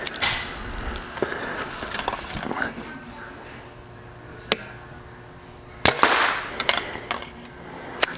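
Bowtech Revolt X compound bow firing an arrow, a sharp close snap with a brief thump partway through, set among rustling and handling noise, with a voice talking faintly in the background.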